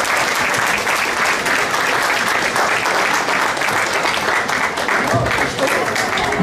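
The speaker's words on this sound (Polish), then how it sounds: "Brawa trwają cały czas." Sustained applause from a large crowd at a women's gala in Olsztyn, dense and loud with no letup, as a voice speaks briefly over the clapping.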